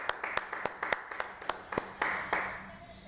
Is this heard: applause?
yes